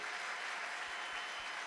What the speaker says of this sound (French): Quelqu'un pouvait nous encourager par ces acclamations